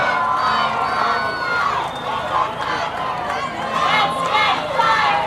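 A crowd at Fleetwood's 150th anniversary parade cheers and shouts, with children's voices and chatter rising in waves close by while someone speaks over the noise.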